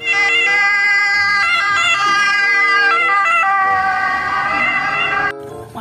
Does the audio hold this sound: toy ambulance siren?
yes